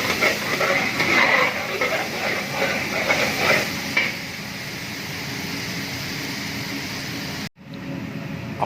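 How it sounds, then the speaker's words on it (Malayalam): Ginger, garlic and onion frying in a pan in a restaurant kitchen, a close crackling sizzle with scraping strokes during the first half, then a softer steady hiss. "അപ്പോൾ അങ്ങനെ നമ്മൾ വറക്കാനിട്ട ഇഞ്ചി വെളുത്തുള്ളി ഉള്ളി ഇത് നല്ല രീതിയിലാണ് നല്ല ഗോൾഡൻ ബ്രൗണായി"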